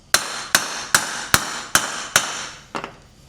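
A hammer beating on a stuck part from a Chevy 250 inline six engine, six sharp evenly spaced metallic blows with ringing decay, then a weaker doubled strike, close and loud with no talk.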